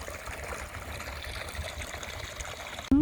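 A small stream trickles down over rocks toward a waterfall in a national park, giving a steady, close rush of running water with no talk.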